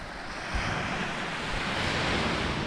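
Waves wash steadily onto the beach at Saltwick Bay, a dense, continuous hiss of surf at moderate level, roughened by wind noise, with no voices.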